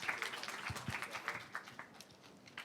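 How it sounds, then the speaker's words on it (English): A modest audience at a youth competition grand final gives a quiet, scattered round of clapping, with individual claps distinct and uneven, sounding somewhat distant and thin. "a round of applause, please, for our guys today"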